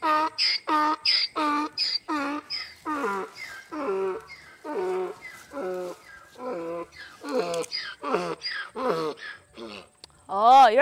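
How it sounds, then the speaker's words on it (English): A donkey brays close by in a long, rhythmic series of harsh, wheezing calls, repeated about a dozen times in a loud sequence that ends with a stronger, higher bray. "Oh, you're a noisy donkey."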